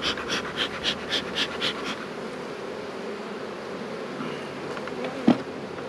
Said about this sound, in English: So I'm gonna pop this box off, shake those bees off.